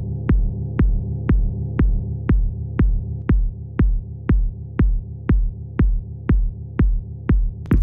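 An electronic drum pattern with sidechain ducking keyed to the kick: a steady pulse of about sixteen deep thumping kicks, each briefly dipping a sustained low bass hum that swells back between hits, loud and without talk.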